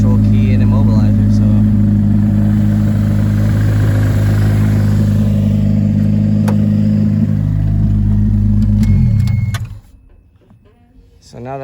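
Honda K20Z1 engine swapped into a Toyota MR2, running on a stock 2005–06 ECU, a steady loud idle with a low drone and faint clatter that continues for about nine seconds before cutting off, leaving near silence.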